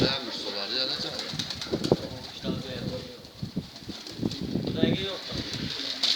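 Pigeons coo in low, rolling bursts close by, with a person talking over them and a steady background hiss throughout.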